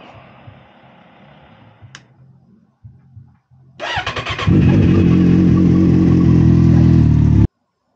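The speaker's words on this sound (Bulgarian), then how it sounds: "И паля го да поработи малко" A motorcycle engine starts up after a few short cranking bursts, then settles into a loud, steady idle that runs close-up until it cuts off abruptly; it is being warmed up before an oil change.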